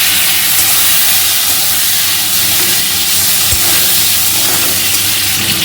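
Potatoes frying in oil with black cumin seeds, a loud, dense and continuous hiss of sizzling close by, with no voices.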